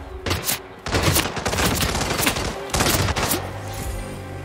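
Rapid gunfire in a Hitman: World of Assassination shootout, loud close bursts of automatic shots in quick succession with sharp cracks and brief pauses.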